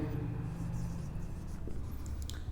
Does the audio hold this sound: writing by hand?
yes